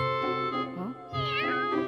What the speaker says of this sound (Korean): 고양이가 날 다시 찾아왔어!